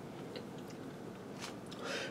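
Someone bites into crunchy, cheesy taco tortellini with beef and green onion, made in a pressure cooker, giving close, irregular chewing and crunching sounds with no talk.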